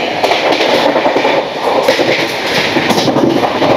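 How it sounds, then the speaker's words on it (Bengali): A train of LHB coaches runs at high speed between Kolkata and Vizag, giving a loud, steady roar with rhythmic clickety-clack of the wheels heard from onboard and no voices. "ট্রেন এখন চলছে তার সর্বোচ্চ স্পিডের খুব কাছাকাছি 110 কিলোমিটার প্রতি ঘন্টা।"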